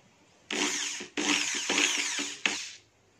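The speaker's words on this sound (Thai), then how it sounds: "เดี๋ยวผมลองหมุนกับสว่านสักพักหนึ่งครับ" An electric drill forces a stuck fan motor shaft to turn, whirring loudly and close in three sustained bursts with short pauses between them and a sharp start on the last burst, with no voices.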